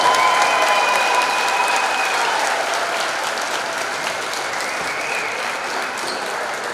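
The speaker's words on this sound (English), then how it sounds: "Let's give all these seniors and their families one more big round of applause." Gym crowd at a high school basketball senior night, Boaz at Guntersville, applauding the seniors and their families: a dense, steady roar of clapping that starts loud and eases slightly over several seconds, with no voices over it.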